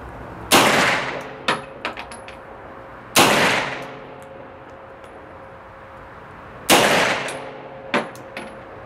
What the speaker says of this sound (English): I'm going to shoot one-handed with all of this because these are all guns from the one-handed era